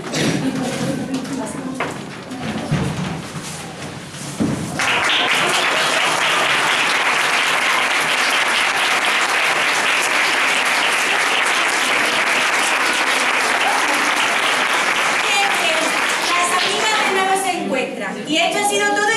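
Applause from a school audience closes a Christmas show, breaking out after about five seconds of talk and holding as a loud, dense clapping wash for over ten seconds before tapering near the end.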